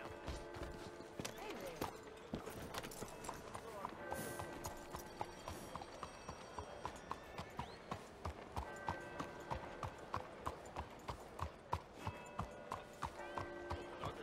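Steady clip-clop of horse hooves in Red Dead Redemption 2 walking on a hard street at an even pace, with a speaking voice and faint background ambience mixed in.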